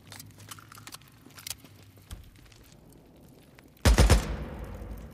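Gunfire in the video game Days Gone crackles in scattered shots and short bursts, then a loud close burst of several rapid shots near the end.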